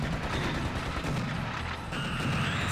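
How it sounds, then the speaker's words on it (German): Enemy gunfire in Serious Sam HD: The First Encounter, a rapid, dense stream of shots and blasts rattling on without pause, loud and steady, with no talk over it. "Oben sind zwei. Die schießen auf uns."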